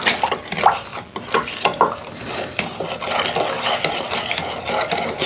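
Sugar being stirred into moonshine to melt it, a steady swishing and scraping with a spoon and small clinks against the pot, continuous and close.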